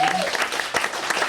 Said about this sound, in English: give a round of applause to Funhouse for having us here